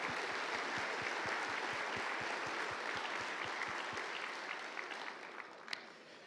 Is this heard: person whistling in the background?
no